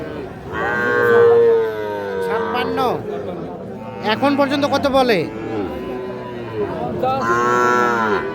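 A Sahiwal bull calf moos loudly and close by at the Ambari cattle market, several drawn-out calls spread across the clip, while people talk nearby.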